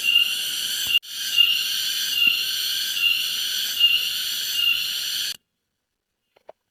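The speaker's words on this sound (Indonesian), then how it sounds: "Suaranya ada jangkrik gitu." Dense, high-pitched cricket chirping in the Alas Purwo forest, Indonesia, drones continuously and loudly with regular pulsing, then cuts off abruptly into near silence with a couple of faint clicks.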